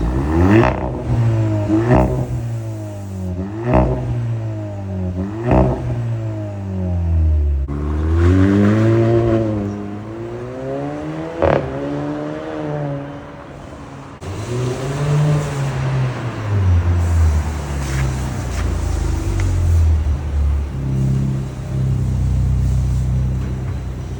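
A Cupra Formentor 1.5 TSI's remote-controlled performance exhaust in loud mode roars through repeated revs, each burst climbing and falling in pitch, with crackles between, close and dominant throughout.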